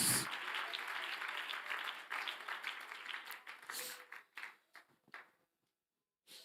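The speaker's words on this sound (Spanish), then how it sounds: "Dale un aplauso a Dios en esta hora." A church congregation applauds during a Spanish-language sermon, broad clapping that fills the first few seconds, then thins into scattered claps and trails off into near silence.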